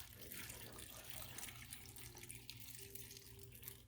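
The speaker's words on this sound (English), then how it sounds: "So here I am pouring my my water and sugar mixture." A water and sugar mixture pours into a jar for apple cider vinegar, a steady faint trickling flow heard alone at low level.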